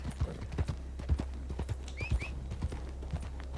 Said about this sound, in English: Hopefully the horse will hop up.